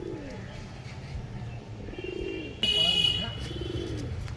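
Pigeons coo softly and repeatedly at a bird seller's stall, low murmuring calls under a general background hum, with a brief brighter chirp near the middle.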